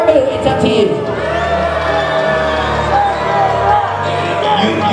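A wrestling show crowd roars in a sustained mass of cheering, whoops and shouting, loud and continuous throughout, with a voice briefly audible near the start.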